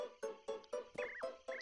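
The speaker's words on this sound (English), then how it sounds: "Are these the strange toads we were talking about?" Paper Mario video game toads croak in a quick run of about seven throaty, evenly spaced croaks, some topped with a rising squeaky chirp, close and clear against silence.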